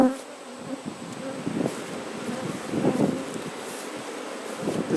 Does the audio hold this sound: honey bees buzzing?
yes